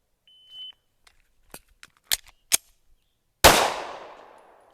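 A pistol fires during a concealed-carry reload drill: a timer beep, metallic reload clacks and sharp clicks, then one loud close gunshot with a long decaying echo.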